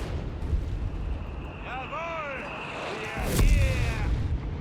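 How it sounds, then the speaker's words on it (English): Mortar fire in Company of Heroes 3 during a Wehrmacht versus British forces match: falling shell whistles, then a heavy, close boom rolling out over the steady rumble of battle. "Mortar fire raining down death here,"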